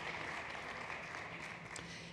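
Quiet, steady clapping from an audience at a startup competition event, a soft continuous patter at a distance.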